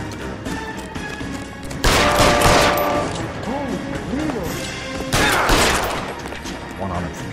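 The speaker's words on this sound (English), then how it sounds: "Shoot him, for God's sake!" Gunfire in the video game LA Noire: two loud broadband volleys a few seconds apart, with dialogue and pitched voice-like sweeps under and between the shots.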